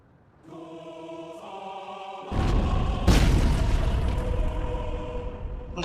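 A deep, rumbling explosion boom from the anime Attack on Titan swells abruptly out of a steady droning hum, then lingers as a broad roar that slowly fades.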